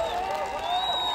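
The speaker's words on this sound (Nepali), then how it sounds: "सबैले ताली बजाएर" A crowd at an outdoor Independence Day celebration on a sports ground in Nepal claps, a dense, steady patter of applause with a voice carrying over it.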